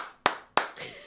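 Two sharp, close hand claps about a third of a second apart, followed by a softer rustling burst, in a quiet room with no talking.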